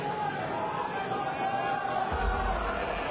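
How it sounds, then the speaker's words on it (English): A loud, steady crowd murmur fills the Herd Graham Recreation Centre at a fight event, with voices over the chatter and a deeper rumble rising partway through. "The crowd is loud enough here at the Herd Graham Recreation Centre."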